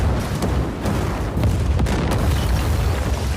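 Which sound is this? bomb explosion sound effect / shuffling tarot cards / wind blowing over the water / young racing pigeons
bomb explosion sound effect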